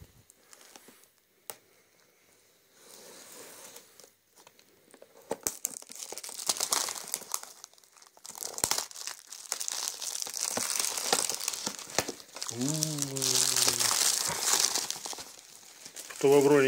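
A package of Aurora Three Elephants black tea bags is opened, with crinkling and tearing of packaging coming in bursts, growing louder midway, under and between a man's speech.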